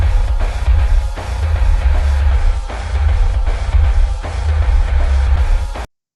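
Slowed-down video game music plays as a dense, steady wash with a heavy low drone and brief dips in a repeating pulse, alone and loud until cutting off abruptly near the end.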